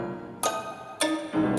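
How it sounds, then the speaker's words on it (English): A game-soundtrack tune processed with a detuned pitch effect layered over the original sound, giving three bright chord-like hits with wavering, slightly sour tones, each ringing out before the next, heard clearly without talk. "you still have the weird detuned signal that's going on at the same time"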